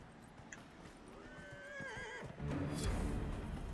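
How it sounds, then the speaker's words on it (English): A horse whinnies and neighs in Dragon Age Inquisition, a rising, wavering call in the middle, followed by clip-clopping hooves that grow louder as the horse sets off. "Magically summon the horse."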